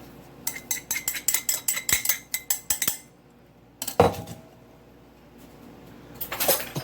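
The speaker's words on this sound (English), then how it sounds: "Now I'm going to mix the tablespoon onion powder and a 3/4 teaspoon black pepper into the crumb mixture." Utensil clinks and scrapes against a bowl as onion powder and black pepper are stirred into a breadcrumb mixture for mock chicken legs, a quick rhythmic run of taps, then a pause and two later bursts of mixing.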